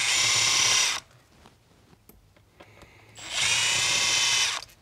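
An impact wrench zips out transmission solenoid pack bolts on a Cummins 68RFE transmission. It gives two loud, steady bursts of about a second and a half each, separated by a quieter gap of faint shop clatter.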